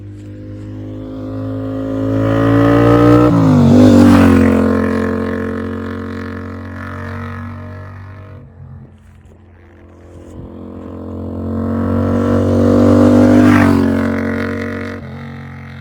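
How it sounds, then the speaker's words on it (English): A custom motorcycle with handmade exhaust pipes revs loudly and close, rising in two long swells of harmonic engine roar with a dip back toward idle between them, a rich throaty tone and no talking. "judging by this idle speed, it seems that the engine is very well tuned"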